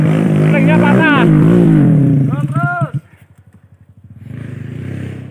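An enduro dirt bike with a broken clutch revs loudly up close, its engine note rising and falling, then dropping to a low chugging idle before building again.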